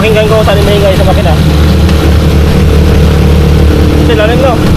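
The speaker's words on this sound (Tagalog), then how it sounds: "Pakinggan ko kung saan yung maingay sa makina." A Rusi Chariot 175 motorcycle engine idles with a loud, constant rumble throughout, while someone talks over it briefly at the start and again near the end.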